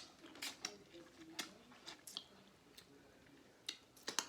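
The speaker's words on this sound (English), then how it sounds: "Smacking, slurping," Mouth sounds from someone eating a seafood boil with crab, shrimp, egg, corn and broccoli: close, wet smacks and clicks in irregular bursts, with quieter chewing between them.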